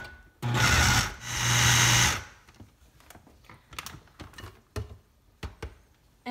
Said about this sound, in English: we're just gonna grind this really quickly on high, or let's pulse it